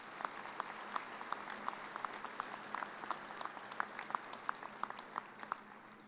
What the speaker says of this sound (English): Please join me in giving our platform party a round of applause.